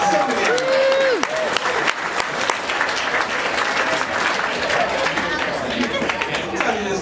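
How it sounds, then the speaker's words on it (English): Comedy club audience applauding and cheering with crowd noise, steady and loud throughout, with a few voices mixed in. "Give a round of applause for all the beautiful women who are here tonight."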